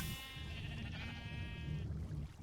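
A Minecraft sheep bleats in a wavering, nasal cry lasting over a second, heard inside an automatic wool farm, with low game ambience continuing after the call fades.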